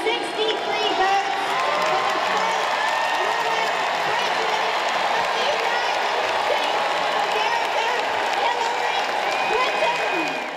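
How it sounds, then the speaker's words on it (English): Florida delegates cheer loudly on a crowded political convention floor, a dense, sustained roar of shouting voices that stays steady and loud throughout. "Florida delegates cast their votes on the floor of the convention Tuesday, cheering at the top of their lungs"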